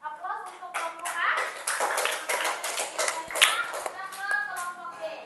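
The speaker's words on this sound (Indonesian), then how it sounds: "berikan aplaus untuk kelompok A" Classroom applause for a student group during a teaching practice session: steady mixed clapping from many hands lasting several seconds, with children's voices chattering underneath.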